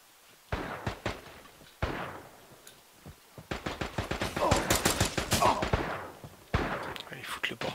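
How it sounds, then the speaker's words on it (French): Gunfire inside a house in the battle royale game Radical Heights: a few separate loud shots, then a rapid automatic burst of many rounds, then another shot, all close and sharp with no talk over them. "Je crois que ça tire dans la maison."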